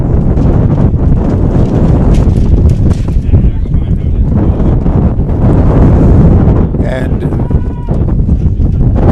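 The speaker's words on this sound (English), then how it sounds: "the wind gust just came up" A strong wind gust blasts into an outdoor microphone at a high school football game between Midland and Northwestern, a loud continuous rumbling buffeting that swamps the broadcast, with a commentator's voice briefly heard under it.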